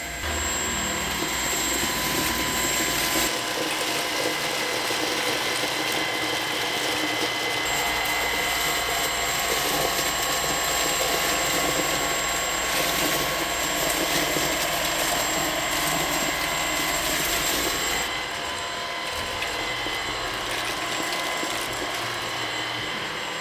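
A cordless stick vacuum pulls oatmeal off carpet with a loud, steady motor whine and rattling debris, briefly changing tone partway through and near the end; no one speaks.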